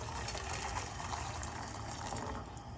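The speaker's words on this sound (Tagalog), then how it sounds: "Lagyan ulit natin ng tubig." Water pours steadily into a cooking pot as noodles, leafy greens and eggs are prepared, a close, continuous gushing splash lasting a few seconds with no talking.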